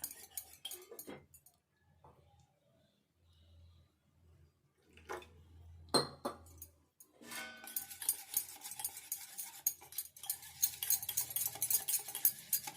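A spoon scrapes and clinks against a bowl while thick coconut batter is stirred, with soft wet mixing sounds that grow steadier and busier toward the end.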